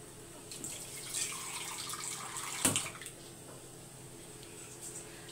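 Water is poured into a cooking pot holding chana dal for a home-cooked birthday meal, giving a soft, continuous trickle and gurgle with one louder splash partway through.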